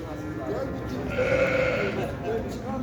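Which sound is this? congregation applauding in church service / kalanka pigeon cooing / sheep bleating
sheep bleating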